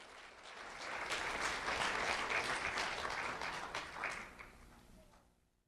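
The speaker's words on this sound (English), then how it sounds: "Let's have a round of applause for Isaiah Ponce." An audience at a student award ceremony claps for a winner, applause swelling quickly, holding steady for several seconds, then tapering off to quiet.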